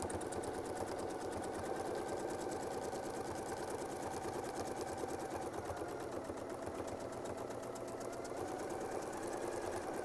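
A sewing machine runs steadily for the whole stretch, stitching a circle with a quilting ruler template, its fast, even mechanical whir and rapid needle clatter close and unbroken.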